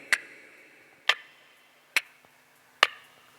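A performer imitates a clock ticking with the mouth, making four sharp, evenly spaced clicks, close and crisp, with quiet gaps between them and no talk.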